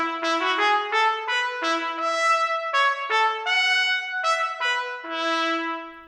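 ProjectSAM solo trumpet samples from the stage microphones play a brisk staccato line of short, punchy notes, slightly roomier than close-up, solo with no talking.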